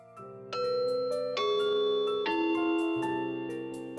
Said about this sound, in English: Cross the threshold of her porch and press down the glassy ivory doorbell.